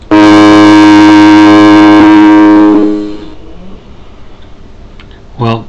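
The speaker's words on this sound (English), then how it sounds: "Or Foghorn." A foghorn sound effect played back by a C# program gives a loud, deep, steady blast lasting about three seconds before fading into faint background noise, with a short bit of speech at the end.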